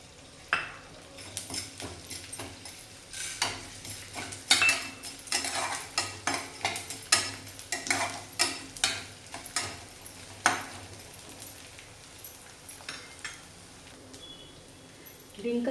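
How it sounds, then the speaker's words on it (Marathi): Edible gum (dink) frying in ghee in a kadai, with a soft sizzle under repeated metallic scrapes and clinks of a spoon against the pan, coming in irregular bursts and easing off toward the end. "डिंक ते पण आपण याच्यामध्ये फ्राय करून घेऊया"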